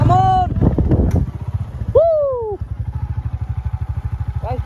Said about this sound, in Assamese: আমাৰ ষ্টুব্ৰাজে বাইক চলাব